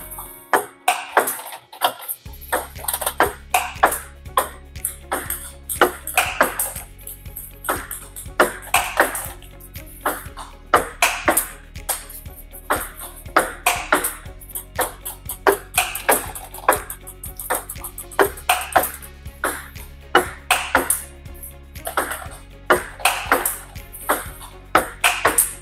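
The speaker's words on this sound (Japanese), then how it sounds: "音に注目してキュンキュンやキャンキャン というような擬音に近い音になっているか確認しながらやってください" Table tennis ball struck with topspin forehand drive strokes, giving a steady run of sharp, crisp hits over a continuous musical backdrop for the whole stretch.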